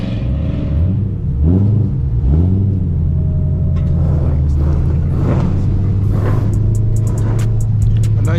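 A C6 Corvette V8 revs up hard through the gears, its engine note climbing and then dropping at each shift several times in a row, loud and close with a deep rumbling exhaust.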